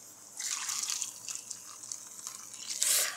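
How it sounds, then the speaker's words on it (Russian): Water pours into a pot of beet soup (svekolnik), a steady close splashing stream that swells toward the end, with no one speaking. "Заливаем водичкой."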